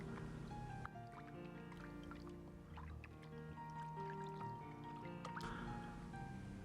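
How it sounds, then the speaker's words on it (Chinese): Sliced beef being rinsed by hand in a bowl of clear water, with soft drips, squishes and sloshing close by over a steady low kitchen hum. "把切好的牛肉放入清水中稍微清洗一下"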